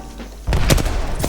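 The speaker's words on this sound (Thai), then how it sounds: "ระเบิดอีกแล้ว" A sudden heavy blast erupts, followed by a second burst and rumbling booms, like explosions mixed with gunfire in Apex Legends.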